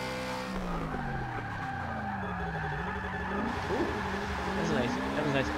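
A car drifts in Forza Motorsport 6, played on a Logitech G920 wheel, its tires squealing in long sliding skids over a steady engine drone, while a player talks throughout.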